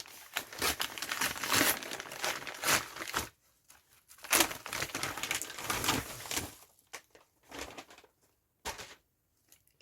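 Packaging of a crochet subscription box crinkles and rustles in loud bursts as it is handled and opened, with brief quiet pauses between.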